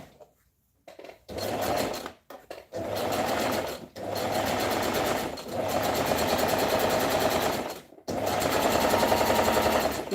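Sewing machine stitching fabric for a gathered skirt, running in several loud sustained bursts of steady rapid stitching separated by brief pauses.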